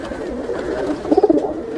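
Pigeons at a pigeon market, where fancy breeds are sold, give a short burst of soft throaty cooing partway through, with faint background murmur around it.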